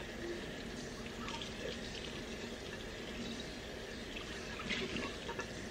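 Tap water runs steadily into a sink while something is rinsed under it, a constant soft splashing stream at moderate distance with no talk.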